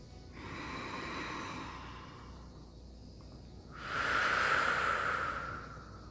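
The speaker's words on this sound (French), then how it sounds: "au moins une bonne dizaine de respirations" Deep breathing exercise for stress relief: a long, slow, airy breath that swells and fades, then a louder, stronger breath a few seconds later, close and with no talking.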